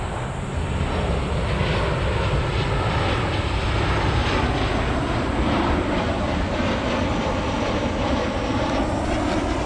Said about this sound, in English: We're right near the airport as well, you can see the planes coming in.